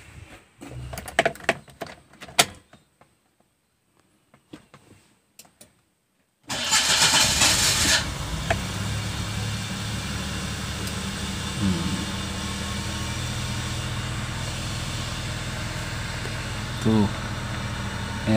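A car engine cranks and catches after a quiet stretch with some handling noises, then settles into a steady, fairly loud idle with slight rev changes, checked while testing the idle speed control.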